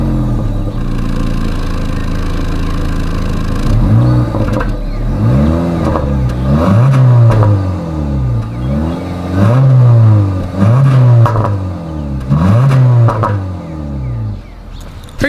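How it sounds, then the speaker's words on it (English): A 2025 Honda Civic Sport exhaust idles, then revs up repeatedly in rising and falling sweeps, loud and close with no talk over it. "As always, here is that exhaust clip."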